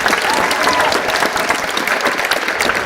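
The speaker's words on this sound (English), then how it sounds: "let's give a big round of applause for Larry Giles" A crowd at a Busch Gardens Williamsburg announcement event breaks into loud, sustained applause for Larry Giles, an even wash of clapping close and full throughout.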